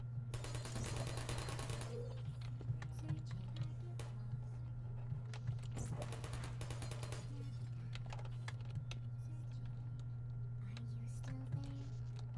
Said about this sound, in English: Who's shooting at me right now?